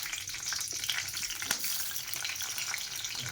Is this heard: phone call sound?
no